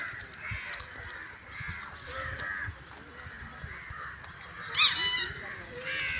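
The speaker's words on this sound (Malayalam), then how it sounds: "കാക്കകളും കിളികളും എല്ലാം പറക്ക് സന്ധ്യ കയറാൻ സമയമായി." At dusk, crows give harsh caws in a few short, fairly distant bursts, and a voice speaks throughout. Other birds are faintly audible in the background.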